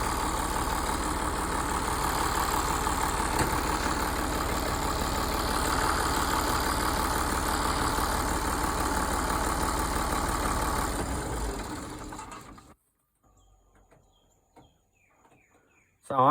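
An IH 1086 tractor engine idles with a steady, close diesel rumble for about twelve seconds, then is shut off and winds down into near silence with faint background sounds.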